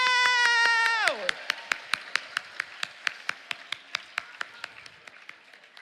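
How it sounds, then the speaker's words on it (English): At a Chinuch banquet gala, a sustained electronic tone slides downward and cuts out, then the audience claps together in a steady, evenly spaced rhythm that gradually fades. "So huge round of applause to Chinuch and every Mechaneches who is bringing Mashiach"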